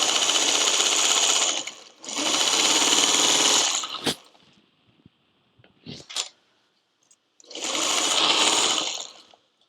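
A sewing machine stitches quilt block rows for a criss-cross block in three loud, steady bursts of rapid whirring, separated by quiet pauses with brief clicks and handling noises as the fabric is repositioned.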